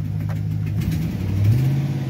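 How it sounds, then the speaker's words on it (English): A GM Chevrolet Silverado pickup of the GMT900 generation, fitted with a fuel control module bypass, runs at a steady mid-pitched engine drone close by, then rises briefly in a short rev near the end. "It'll rev just fine."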